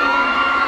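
Fans cheer loudly at an outdoor concert in New Clark City, a dense wall of high-pitched screams and shouts from a large crowd, sustained and close throughout.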